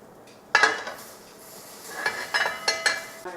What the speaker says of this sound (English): So we're going to mix it up here one last time.